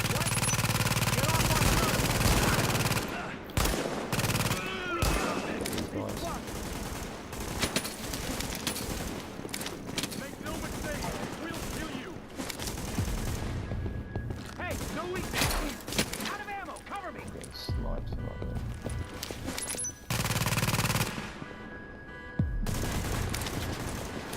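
Rapid bursts of automatic cannon fire and gunshots in the video game Tom Clancy's The Division, dense and loud throughout, with someone talking over the shooting.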